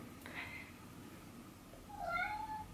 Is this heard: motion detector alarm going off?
no